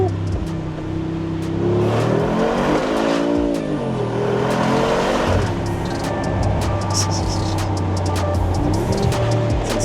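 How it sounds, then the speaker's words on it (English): Mercedes-AMG G63 V8 engine downshifting, with deep revving blips and rising and falling engine tones over steady road roar, loud and close throughout. "And the downshift, just listen."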